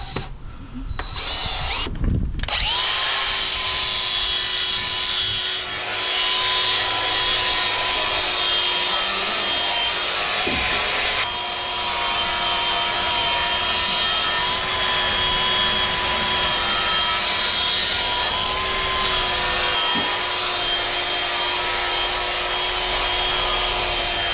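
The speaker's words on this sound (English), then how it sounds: "So the reason why I sand this down here is so that it's smooth" A power sander works over a wooden deck step to smooth its edges, a loud continuous whirring drone close by with a few knocks and pauses in pressure, running for the whole stretch.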